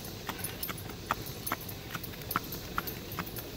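Horse hooves clip-clopping on a paved road in a relaxed dog-walk gait: evenly spaced, crisp hoofbeats at a steady walking rhythm, fairly close and alone.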